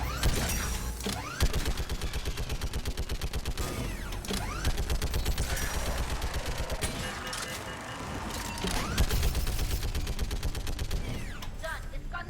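Turret gunfire in the video game Mass Effect 3, a rapid, loud, sustained stream of shots that runs in long bursts with brief pauses, carrying metallic mechanical clatter.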